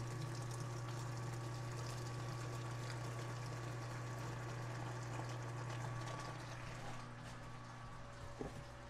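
Steady rush of about three gallons of water pouring into a mash tun for gin making over a constant low mechanical hum, continuing for several seconds before tapering near the end.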